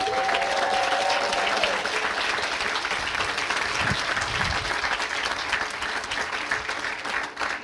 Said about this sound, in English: Big round of applause for our graduates.